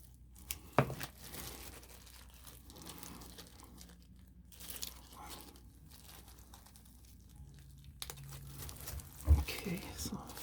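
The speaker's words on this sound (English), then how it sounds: "I'm just going to put the scissors in there and cut some out." Scissors snip into a silicone practice face with quiet crinkly cuts and tearing, soft close handling noises punctuated by a couple of sharper clicks, under faint murmured talk.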